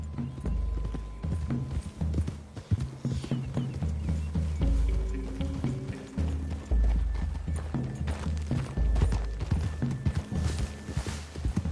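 Horse hooves clip-clop steadily through the whole stretch in Red Dead Redemption 2, with a rhythmic run of close, loud footfalls, a brief whinny, and game music and ambience underneath.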